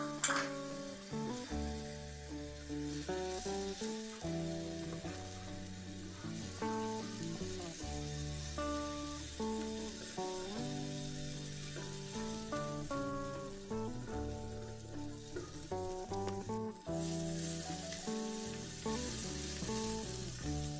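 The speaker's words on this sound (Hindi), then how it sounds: "अब मैं इसमें सबसे पहले हम इसमें अदरक ऐड करेंगे और इसको अच्छी तरह भून लेंगे।" Ginger fries in about two tablespoons of oil for beef biryani, a soft sizzle under a steady bed of background music.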